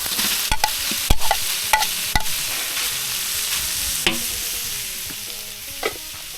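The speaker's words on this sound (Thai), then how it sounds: "ใส่ปลาไหลลงไปครับ" Eel sizzling and being stir-fried in a hot pan for a spicy Thai stir-fry, a steady frying hiss broken by several sharp clacks and scrapes of a utensil against the pan, close and with no talk.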